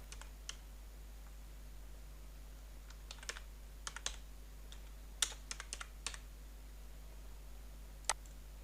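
Someone types a search query on a computer keyboard in a quiet room: a sparse, irregular run of faint, crisp key clicks over a steady low hum, with no voices.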